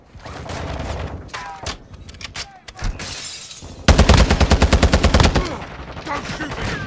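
Rapid bursts of automatic gunfire and single shots ring out in the Call of Duty DMZ game, loud and close, with a dense sustained volley in the second half and a brief shout in between.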